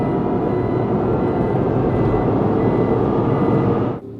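A supercharged third-generation Toyota Tacoma pulls hard under full throttle, a loud sustained engine roar with a high whine riding over it, cutting off sharply near the end.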